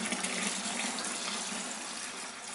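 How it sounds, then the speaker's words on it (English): Water gushes steadily into a home-brew beer fermenting vessel, a loud, continuous splashing rush that holds an even level throughout with no voices. "Let's chuck in some water."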